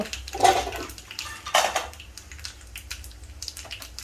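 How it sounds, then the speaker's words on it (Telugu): Urad dal dropped into hot oil in a pan for mamidikaya koyitaku pappu sets off two short bursts of crackling sizzle, then a softer spluttering that fades. "మినప్పప్పు వేస్తున్నానండి"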